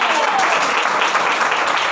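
A church congregation at a prayer meeting claps loudly and steadily, a dense wash of applause filling the room without pause.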